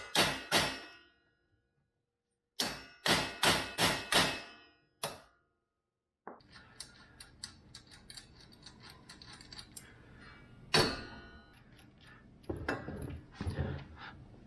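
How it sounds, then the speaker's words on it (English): Hammer taps on the steering knuckle of a 2019 Yamaha YXZ1000R SS SE side-by-side during an inner tie rod job, sounding as sharp metallic clanks in two quick clusters, then a rattling, clattering stretch with a few louder knocks, close by. "A couple of taps right here on the knuckle should free it up."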